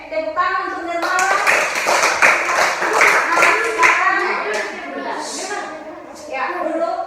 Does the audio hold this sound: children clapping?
yes